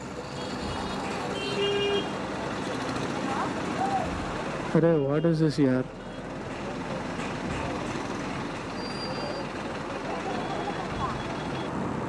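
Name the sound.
traffic jam with honking vehicles, buses and trucks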